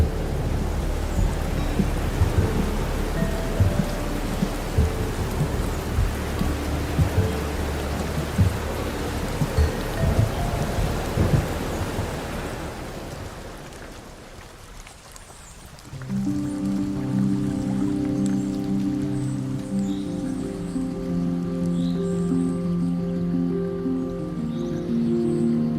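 Heavy rain pours loudly with rumbling thunder and gusting wind in a storm, the downpour dense and steady at first, then easing partway before resuming with a calmer, tonal background.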